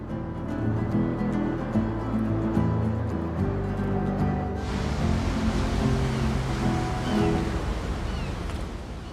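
Atlantic Ocean waves break off the west coast of Ireland, a broad surf wash rolling in under a musical backdrop. The roar swells and thickens partway through, with no voices.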